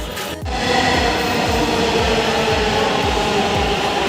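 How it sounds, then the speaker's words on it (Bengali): A metro train rolls in with a steady rumbling roar and rhythmic wheel clatter, loud and close, sustained throughout after a brief quieter start. "ট্রেনটা চলে এসছে আমরা এখন ট্রেনের ভেতর প্রবেশ করবো"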